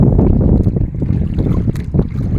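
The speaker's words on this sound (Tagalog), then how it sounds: "malakas po ang alon, baka po matalsikan yung ating cellphone" Loud, churning rush of rough sea waves and wind buffeting the microphone, continuous and close, with no voices.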